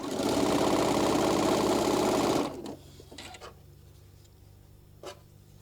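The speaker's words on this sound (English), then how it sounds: "And just go ahead and just start sewing." A sewing machine running steadily and loud for about two seconds while stitching a quarter-inch seam on a table runner, then stopping, followed by quiet handling noises and a brief knock.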